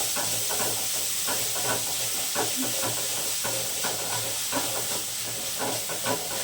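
Onions frying in a pan for bassaru, a constant close hiss and sizzle with light stirring clatter throughout, no voices.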